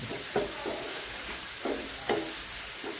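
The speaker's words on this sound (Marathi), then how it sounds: "आता याच्यात आपण टमाटो टाकून घेऊया आणि चवीनुसार मीठ टाकून घेऊया छान सत्र परतून" Tomatoes sautéing with salt in a hot pan give a steady close sizzle, broken by four or five short scraping strokes as the spatula stirs them.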